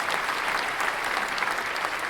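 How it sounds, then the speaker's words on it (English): A short burst of crowd applause fired from a stream sound-effect button, loud, dense clapping and cheering held steadily for about two seconds. "I found my applause button."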